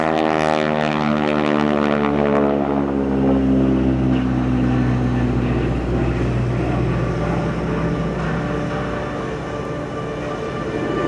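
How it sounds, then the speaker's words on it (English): A T-6 Texan propeller trainer flies past at an airshow: a loud, droning radial-engine roar whose pitch sweeps downward as the plane passes and recedes, sustained throughout with no talk. "There's that beautiful T-6."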